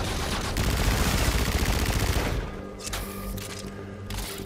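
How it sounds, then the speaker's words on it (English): Rapid automatic gunfire in Call of Duty: Infinite Warfare, a dense loud burst for over two seconds, then scattered shots and booms. "At this point, I'm just shooting everyone everywhere."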